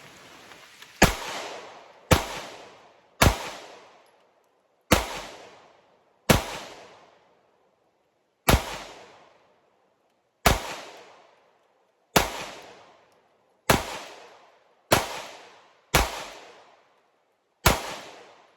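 A Sig P365 X-Macro pistol fires eleven sharp, loud shots outdoors at irregular intervals, each crack followed by a short decaying echo and quiet gaps between.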